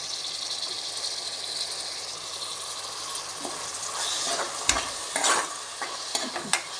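Chopped tomatoes are mixed into chicken masala frying in a pan, giving a constant sizzle with scraping, rattling stirs that grow busier and more pronounced in the last few seconds.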